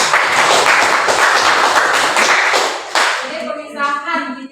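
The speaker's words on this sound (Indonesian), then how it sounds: "Ya, tepuk tangan lagi untuk" Classroom applause from students during a teaching practice lesson, dense steady clapping for about three seconds before breaking into scattered claps under a teacher's voice.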